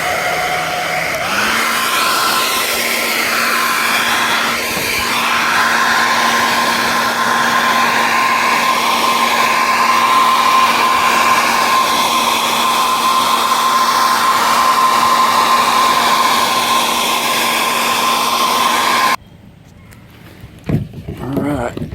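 A hair dryer blows hot air onto a kayak dented from improper storage on a rack in the heat, a loud, steady whine that runs unbroken for most of the time, then cuts off with a few faint knocks.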